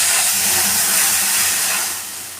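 Milk poured into hot ghee in a wok, a loud close rushing hiss of steam and sizzle that slowly fades.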